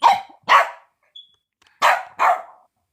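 A dog barks four times in two close pairs, loud and near, with a faint high electronic beep between the pairs and no speech.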